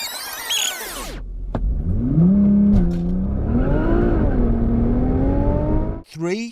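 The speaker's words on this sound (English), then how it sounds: "You just put your foot on the brake, and with your right foot, you just floor the throttle, and then let go of the brake." A Nissan GT-R launches hard in race mode, its engine roaring loud and close as the revs climb through rising gear pulls before cutting off abruptly near the end.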